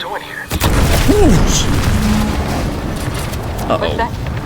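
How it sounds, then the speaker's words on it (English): A deep booming explosion rumbles in The Outer Worlds 2 video game, a single heavy blast followed by a sustained low roar, with someone talking over it. "What's that? An explosion?"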